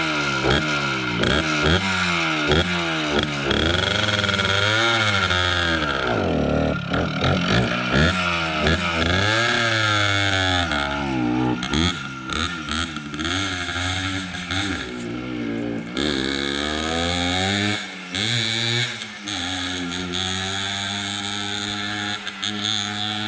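A 1974 Yamaha MX100 motorcycle engine fires up and revs hard, its loud, continuous two-stroke drone rising and falling through repeated throttle blips over about twenty seconds.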